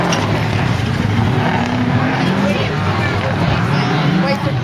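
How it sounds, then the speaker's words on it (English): A Ford Escort Mark II rally car pulls away from the start line at Brean Stages Rally 2015, its engine roaring loud and close and holding a strained, gravelly drone throughout, with crowd murmur underneath. "car 30 leaving a great Ford Escort Mark II"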